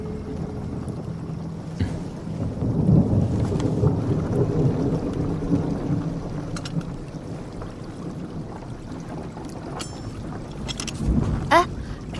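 Low rolling thunder rumbles through a drama scene as rain threatens, a long sustained murmur swelling and easing over several seconds, with a brief sharper crack near the end.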